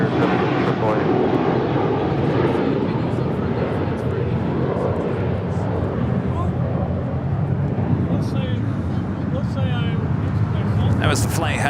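A JetBlue jet on flight 888 to Boston takes off at LAX, a sustained engine roar that slowly swells and fades while a voice talks over it and clicks and crackles come and go.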